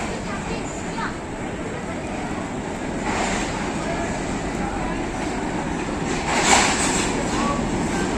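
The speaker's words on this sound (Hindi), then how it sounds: "12 डाउन हज़ारा एक्सप्रेस पहुँच लिया प्लेटफार्म नंबर 4 पर।" The Hazara Express with locomotive 8319 stands at a station platform with a broad, steady rumble and hiss, and a few louder swells come through while someone talks over it.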